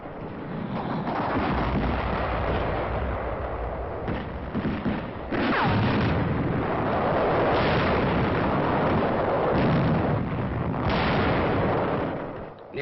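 Wartime newsreel of a tank taking a direct hit: repeated booming explosions and heavy rumbling blasts roll over each other, loud and muffled with a dull, band-limited old-film quality, no talk.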